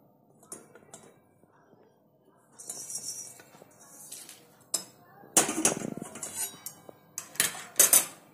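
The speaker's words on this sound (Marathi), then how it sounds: "लवंग घेतली 10 ग्रॅम, फक्त गरम करायची आपल्याला." Cloves, about 10 grams, dry-roasted and stirred in a pan for garam masala, with scraping metallic clinks and rattling bursts growing louder and more frequent toward the end, close by.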